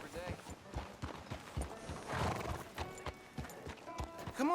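A horse in Red Dead Redemption 2 on Xbox One clops along with hooves beating steadily, then neighs and whinnies near the end. A character talks over the hoofbeats.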